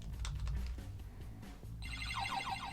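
A GB Boy Colour handheld console powers on with a cartridge inserted: a low background rumble, then a bright, repeating electronic startup jingle begins partway through and rings out clearly to the end.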